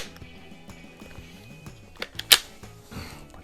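A Beeman AR2078 air rifle fires wadcutter pellets with a sharp, close crack, a brief snap standing out among fainter clicks and low tonal background.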